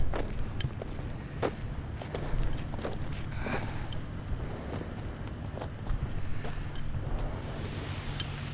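Steady wind gusts across the microphone at an outdoor paramotor launch site in the morning, a low rumbling buffet with some faint light rustles and taps over it, moderately loud and without talk.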